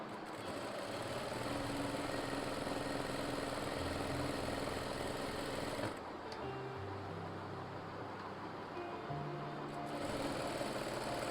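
A sewing machine stitches palazzo pants with a fast, steady mechanical whir, running continuously with a brief pause and slight change in pitch midway, fairly quiet and close.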